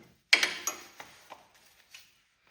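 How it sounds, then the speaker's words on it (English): A hand ratchet tightens a 1/4 inch bolt on a Cub Cadet 1772 Super Diesel rockshaft lift. A quick run of sharp, close metallic clicks slows into a few sparse clicks, with quiet between them. "I'm going to tighten up that 1/4 inch bolt"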